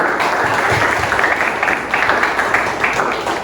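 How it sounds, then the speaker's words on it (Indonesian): A classroom of students applauds a classmate, with loud, close, continuous clapping and slight surges, lasting about three and a half seconds. "Tepuk tangan dulu untuk Wafi"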